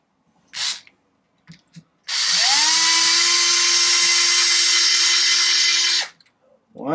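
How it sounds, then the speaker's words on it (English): A handheld electric drill whirs up to speed and runs steadily for about four seconds before stopping, preceded by a few brief clicks and handling noises, while fitting a motor mount on an Arrma Typhon RC car. "Gonna take my electric drill."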